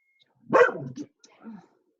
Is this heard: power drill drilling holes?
no